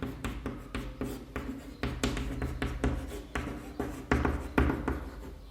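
Pen writing a geometry proof on paper, a run of short scratchy strokes and taps in uneven bursts, close and fairly quiet, with no talk over it.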